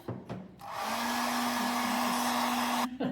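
A hair dryer starts up and blows steadily at close range for a couple of seconds to dry a wet watercolour painting, its whirring hum constant before it cuts off, preceded by a few light clicks.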